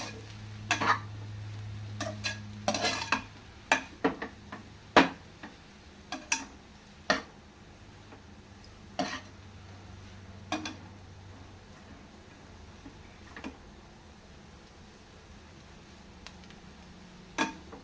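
Street-style noodles being tossed and mixed with a packet of masala in a pan at home, heard as irregular clinks and scrapes of a utensil against the pan, with a low steady hum beneath and no talking.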